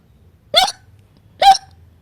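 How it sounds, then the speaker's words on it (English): A cartoon pig hiccups twice, each one short, sharp and close, about a second apart, with near silence between them. "Suddenly, Peppa starts to hiccup."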